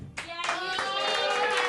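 An audience claps at a live comedy show, a short burst of applause under loud overlapping cheering voices.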